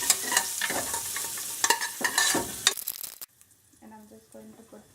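Food for a red lentil vegetarian biryani fries and is stirred in a pan with bay leaves, giving loud, rhythmic scraping and sizzling pulses that stop abruptly, leaving a quieter tail with faint background sounds.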